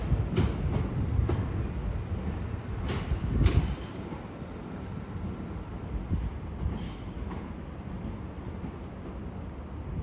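A Class 377 electric train passing at a London terminus, with wheel squeal and rail clatter loudest in the first few seconds, then a steady rumble that fades slightly, with faint high squeals recurring.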